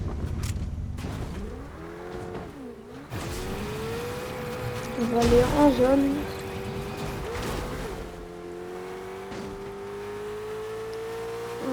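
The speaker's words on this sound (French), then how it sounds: "Allez, on part en voiture." A car driven in Fortnite: an engine hum rising and falling in pitch as it accelerates and shifts, with a louder revving burst midway, while a young French-speaking player talks over it.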